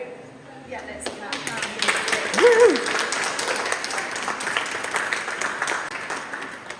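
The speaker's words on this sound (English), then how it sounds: "let's clap." A crowd at an art showcase applauds and claps, a sustained wash of clapping that swells briefly near the middle, with people talking over it.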